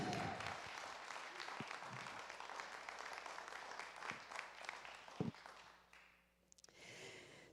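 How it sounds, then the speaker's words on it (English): Audience applause at a Sunday service after a song, a fairly quiet wash of clapping lasting several seconds with a few louder claps, then dying away into near silence. "Let's give them another round of applause."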